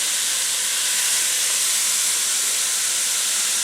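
Ground beef cooking down in a pot, a loud continuous broadband hiss of frying and steam, steady throughout with no voices.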